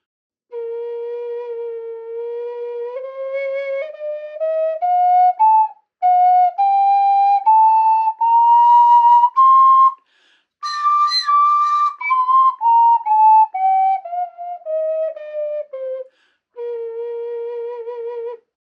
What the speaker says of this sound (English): this one kind of plays up the diatonic scale